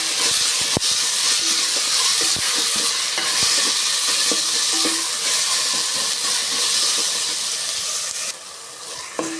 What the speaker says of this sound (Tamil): பாருங்கள், வெங்காயம் தக்காளி நல்லா வதங்கிடுச்சு.